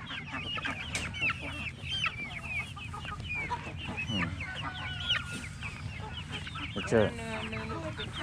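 Chickens cluck and chatter continuously at an outdoor swap sale in Amherst, Wisconsin, with a brief rooster-like call near the end and people talking in the background.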